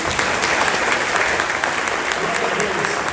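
A church congregation applauds together, a dense, steady wash of clapping that fills the room for the full few seconds without letting up.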